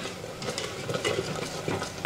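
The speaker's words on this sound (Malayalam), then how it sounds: "എല്ലായിടും ഒന്ന് ഇളക്കുക" Broken wheat sambar rice is stirred in a pan, soft close scraping and sticky shuffling strokes with a faint sizzle underneath, ending in a light clink.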